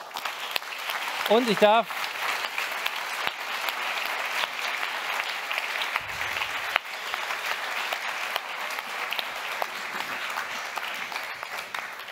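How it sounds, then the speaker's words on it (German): Audience applause for people on stage at a Berlin event, sustained clapping that fills the room and continues steadily, with a brief voice rising above it early and a speaker talking briefly. "Einen großen Dankeschön-Applaus für alle hier auf der Bühne."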